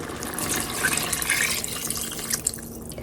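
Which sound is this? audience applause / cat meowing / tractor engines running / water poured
water poured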